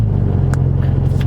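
A Dodge Charger Scat Pack with the 392 engine idles steadily in eco mode, a deep, even low rumble close by with a few faint ticks above it and no talking.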